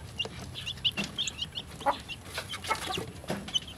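A mother hen with newly hatched chicks clucks softly and repeatedly at close range, with faint high chick peeps mixed in and no talking.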